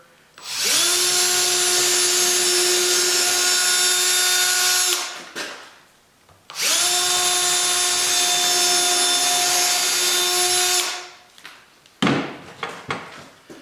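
A power drill drives screws into a wooden ramp board in two long, loud, steady whining runs of about four seconds each, separated by a short pause, then followed by a few knocks and clatters of handling.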